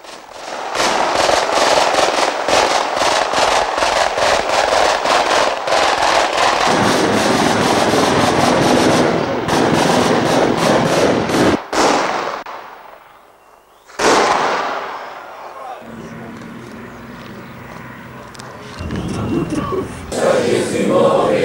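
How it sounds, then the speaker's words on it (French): Rapid volleys of loud ceremonial mortar blasts crackle continuously during an outdoor Pentecost procession, then stop abruptly, followed by another burst and fading rumble, with sparse crowd noise. "Cette 11e bénédiction est ponctuée une fois de plus par les tirs des camps."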